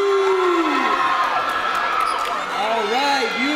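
A graduation crowd for the grade 12 class of 2022 cheers and shouts in a loud, steady roar, with whoops and high voices rising above the sustained noise throughout.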